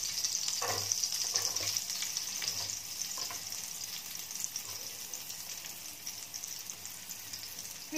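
Chopped onion fries in a hot pan with a steady, bright sizzle, close and continuous, with a few soft stirring clicks and no talking.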